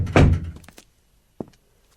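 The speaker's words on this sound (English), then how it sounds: "Should we close the door?" A door in a house is pushed shut in a radio drama: a solid thunk followed by a quieter click a moment later, close and alone with no talk.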